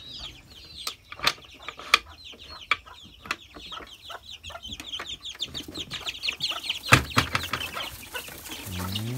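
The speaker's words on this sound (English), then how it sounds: "Time to let out the chicks." Chickens clucking and cheeping at a backyard coop as they are let out, a busy run of short close calls with a few sharper squawks and a louder burst near the end.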